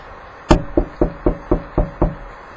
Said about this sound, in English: You can hear the reindeer walking on top of the roof.